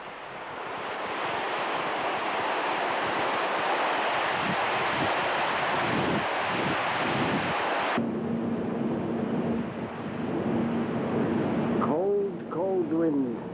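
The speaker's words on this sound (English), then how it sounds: "When you see these huge waves" Heavy surf and rough sea on a ship at sea, with strong wind roaring steadily across the microphone, loud and continuous throughout; a voice speaks briefly near the end.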